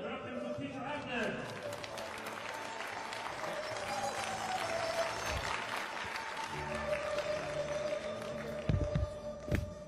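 A crowd applauds at a China Open snooker match in 2012 as player Peter Ebdon is welcomed, a steady wash of clapping from a large audience with some shuffling and thumps near the end.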